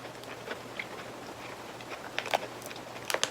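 Faint, close bites and crisp crunches of a Japanese confetti matcha cookie, a few sharp cracks scattered over quiet chewing, with the loudest crunches near the end.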